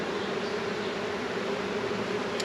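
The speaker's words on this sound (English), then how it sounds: "Probably some bees." Honey bees from a beehive make a steady, faint, continuous buzz that hums evenly throughout without breaks.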